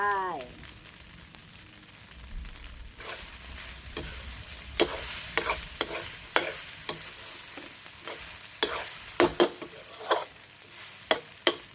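Old-style Thai fried rice with egg and green onions stir-fried in a pan, a low sizzle under repeated sharp clinks and scrapes of a spatula against the pan, with a faint voice at the very start.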